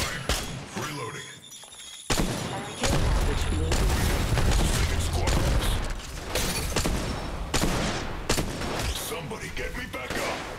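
Rapid, loud bursts of gunfire from the mobile battle royale game Apex Legends Mobile, with dense volleys peaking in the middle and continuing in choppier shots to the end.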